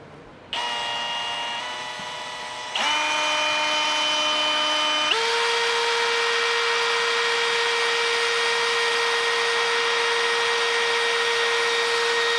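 A power drill whines steadily while drilling a hole in a box, stepping up in pitch twice as it speeds up, then holding a loud continuous high drone.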